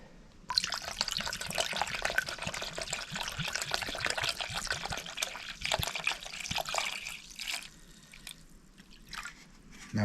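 Vinegar pours steadily over a pair of old pliers in a container during a tool restoration, a continuous close liquid splash and trickle that thins into drips toward the end, with no talking.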